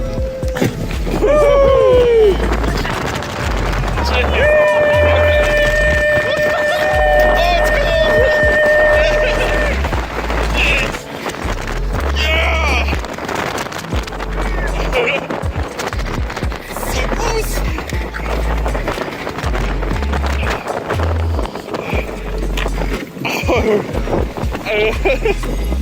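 A sled slides fast down a snowy hill in Quebec City, with loud, continuous rushing wind and scraping that runs the whole ride, and voices call and shout over it.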